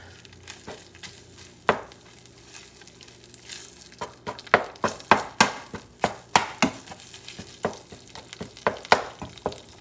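Mexican chorizo sizzles steadily in a pan on a little above medium heat while a utensil breaks it apart with repeated sharp scraping taps that come faster and louder toward the end.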